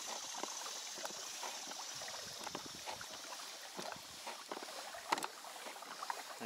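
A Hobie i12s inflatable 12-foot kayak turns in a circle with its rudder cranked hard left, giving soft, steady water splashing and sloshing close by with light wind, no voices.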